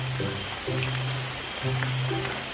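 Steady rain hisses continuously during outdoor mushroom foraging, a dense, even patter with faint low hums underneath.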